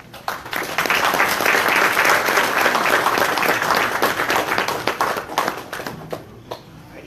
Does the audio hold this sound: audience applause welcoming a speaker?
yes